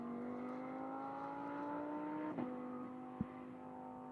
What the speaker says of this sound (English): Very aggressive gear changes in the 488 Challenge.